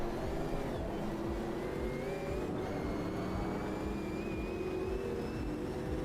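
Race car engine in the Automobilista 2 sim racing game, a steady, close droning hum with a faint whine above it, held at an even level throughout without talk.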